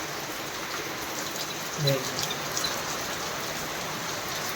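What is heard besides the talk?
rain falling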